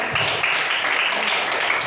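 A classroom of students applauds together after a group presentation, a steady dense wash of clapping that fills the whole short stretch at an even, fairly loud level without breaks.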